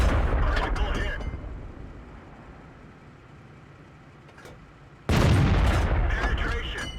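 Two heavy booming blasts of a tank gun, one at the start and one near the end, from the Type 62 light tank in World of Tanks, loud and close, with a quieter rumbling engine drone between them.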